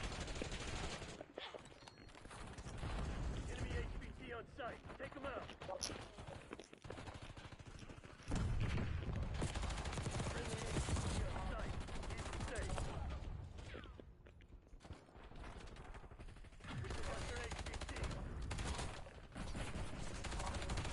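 Sustained gunfire in Call of Duty, dense bursts and rattling automatic fire running continuously under battle noise, with loud stretches broken by brief dips, alongside a radio-style mission announcement.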